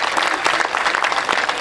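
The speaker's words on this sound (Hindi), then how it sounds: "तालियां बजाकर आदेशित करिए" Dense, loud applause from an audience at a Hindi poetry gathering, a brief burst of steady clapping with no speech.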